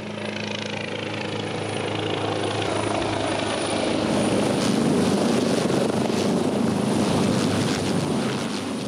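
A rescue helicopter airlifts a patient. Its rotor and engine roar steadily and loudly throughout, swelling slightly toward the middle, with no voices.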